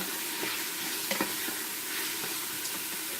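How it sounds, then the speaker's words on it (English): Pork with brown sugar sautés in a pan with a constant hissing sizzle, punctuated by occasional soft stirring clicks, close and even in level. "I'm also going to saute this some more."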